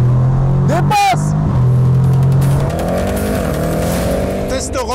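An Audi RS7 engine revs loudly and accelerates to overtake, with rising and falling engine tones and road roar, close and powerful, while people talk excitedly over it.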